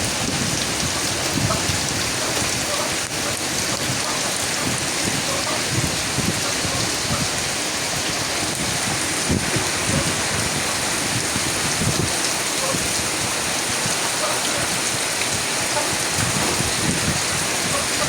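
Steady rain falls outdoors where peacocks shelter, a dense constant hiss of drops on surfaces, close and loud throughout with no break.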